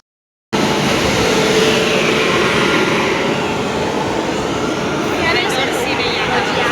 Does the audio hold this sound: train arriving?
yes